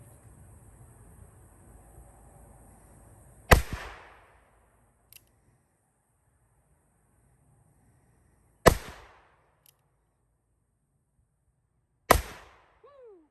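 A Spiller and Burr black powder revolver fires three sharp, loud shots spaced several seconds apart, each with a short echoing tail, in quiet surroundings with faint background noise and no talk.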